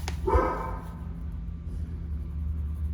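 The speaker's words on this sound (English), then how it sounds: "I bet that bark is usually reserved for delivery people next door" A dog barks indoors, one sharp loud bark near the start, followed by a low background hum and quiet room noise.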